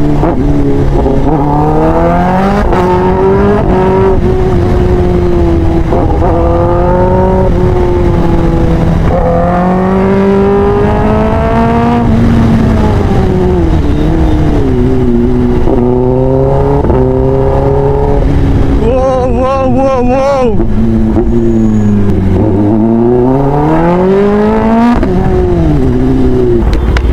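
A Kawasaki ZX10R sport motorcycle engine revs loud and close, its pitch climbing and falling through repeated throttle blips with no talking over it.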